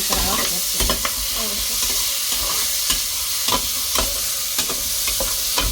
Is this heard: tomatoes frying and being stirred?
yes